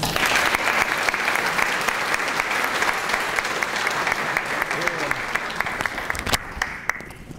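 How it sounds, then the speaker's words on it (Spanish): Audience at a science and technology talk gives strong applause welcoming a speaker, steady dense clapping that fades toward the end, with faint voices mixed in. "a quien le recibimos con fuertes aplausos."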